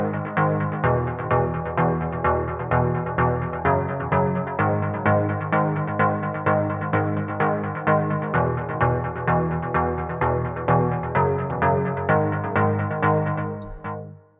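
A synth pluck patch in Logic Pro X, with reverb, playing a steady, repeating big room house pattern of short, bright notes. The notes are loud and continuous with no voices, then cut off at the end.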